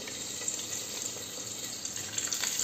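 Potato balls with a cheese center frying in very hot oil, a steady, even hiss and crackle throughout with no talk.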